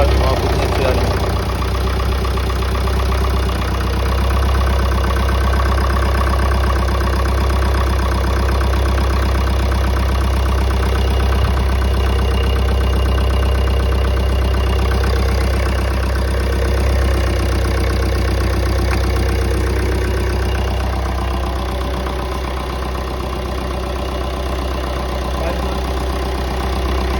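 A rebuilt Maruti Ciaz diesel engine idles steadily up close, giving a continuous low clattering rumble that holds even throughout, with faint background noise and no speech over it.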